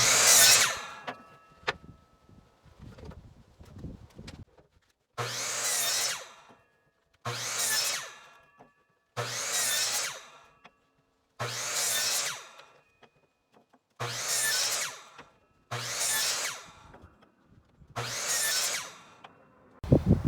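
Power saw cutting a rough wood fence picket against a stop block, repeated loud bursts of about a second each with short quiet gaps between, roughly seven cuts in a steady rhythm, no talking.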